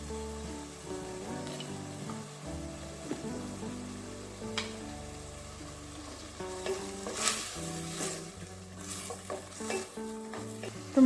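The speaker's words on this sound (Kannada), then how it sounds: "ಟೊಮೆಟೊ ಚೆನ್ನಾಗಿ ಫ್ರೈ ಆಗಿದೆ." Tomato frying with rock salt in a pan, a steady close sizzle with repeated stirring scrapes and clinks throughout, no talk.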